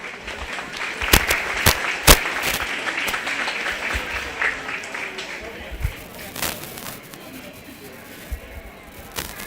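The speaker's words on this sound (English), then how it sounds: "Let's give that young lady a nice round of applause." Audience applause for a young exhibitor at a 4-H/FFA youth cattle show, a steady wash of clapping with a few sharp louder claps standing out, fading slightly toward the end, with some voices mixed in.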